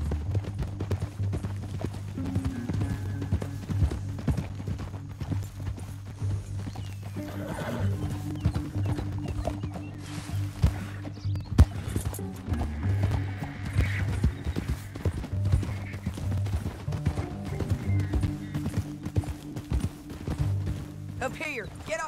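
Horses in Red Dead Redemption 2 clip-clop and whinny across a canyon trail, hooves thudding steadily over a low musical drone for a sustained stretch, with occasional snorts and creaking tack.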